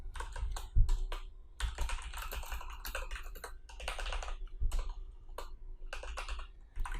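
Rapid keystrokes on a computer keyboard while PHP code is entered, coming in quick irregular bursts of clicks with brief pauses between, close and fairly quiet.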